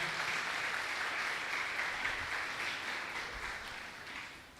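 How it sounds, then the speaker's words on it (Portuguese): A church congregation applauds the Lord during a service, a soft continuous wash of clapping heard from a distance, steady and then slowly fading. "você pode aplaudir ao Senhor"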